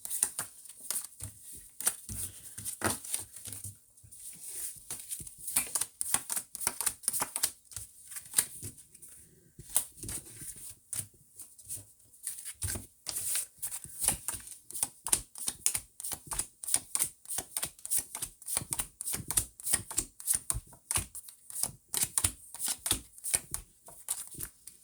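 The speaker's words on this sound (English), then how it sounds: "I'm still shuffling." Tarot cards shuffled by hand for a long stretch, giving dense, rapid, clicky slaps and riffles close up, with brief pauses between bursts and no talk.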